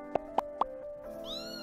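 A kitten meows close by: three quick, sharp little cries, then a longer drawn-out meow rising at the end, with no voices.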